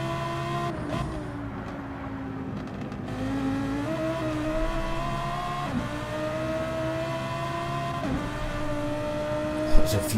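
Race cars lapping the Nürburgring Nordschleife in a racing video game: steady engine drone with rising and falling pitch sweeps as cars shift and accelerate, several cars close together, a brief tire squeal near the end, and no talk.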